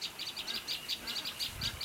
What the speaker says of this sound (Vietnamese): chim chích nó vẫn kêu rồi